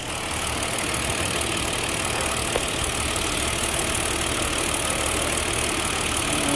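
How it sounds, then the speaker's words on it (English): A car's engine idles steadily right beside the listener, a close, constant mechanical drone with faint knocking texture and no talk, from a vehicle with a strong fuel smell inside and fuel on top of an injector. "being close to the motor, you may all only hear engine noises"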